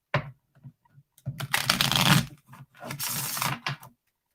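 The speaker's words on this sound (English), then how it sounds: "Make sure the cards are all nicely shuffled for our final group read." Bursts of papery riffling and flicking as Lenormand cards are shuffled, several quick shuffles in a row with short pauses between, close and fairly loud, no voices.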